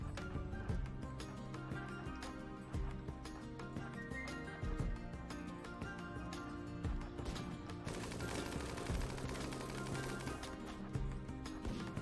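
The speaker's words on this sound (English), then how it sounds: "Charge rifle doing some real work there, though." Charge rifle fire in the colony-sim game RimWorld during a zombie fight, rapid crackling bursts of shots in dense volleys mixed with other weapon reports, busy and continuous with a harsher burst near the end.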